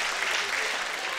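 A packed house at the PRO Chess League Finals breaks into sustained applause, a steady wash of clapping from many hands filling the room.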